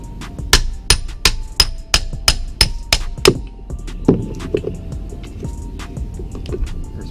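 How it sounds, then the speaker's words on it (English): About ten sharp metallic hammer blows in quick, even rhythm on a Nissan 350Z differential part, then a few scattered clanks and knocks, close up with no speech. "I have to get an actual hammer."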